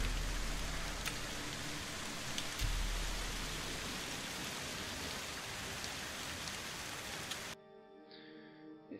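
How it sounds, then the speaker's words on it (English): Steady rain in the game Morroblivion falls as a dense, even hiss with faint low rumbles, then cuts off abruptly near the end, leaving quieter game tones. "It's still raining."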